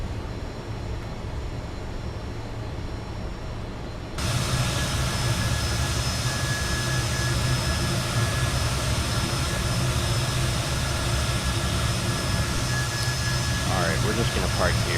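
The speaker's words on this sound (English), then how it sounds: "blast these planes with the jet engine" The F28 jet engine in Microsoft Flight Simulator roars steadily, a broad, dense whine and rumble that jumps louder a few seconds in and then holds constant.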